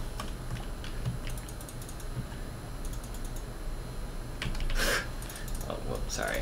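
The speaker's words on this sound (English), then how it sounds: "I'm just clicking all over the place" Computer keyboard and mouse clicks while playing a Katarina match in League of Legends, with rapid scattered taps and clicks running steadily throughout and a denser burst near the end, under a constant hum.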